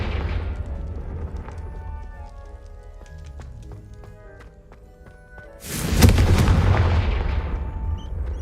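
A Confringo fire spell bursts in the Hogwarts Legacy video game, a sudden loud explosive boom arriving after a stretch of lower game ambience and tonal music, then a long rumbling decay.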